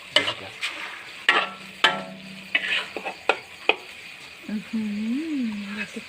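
Food sizzles in a hot wok during stir-frying while a utensil clanks and scrapes against metal in sharp, irregular hits, followed by a short voice.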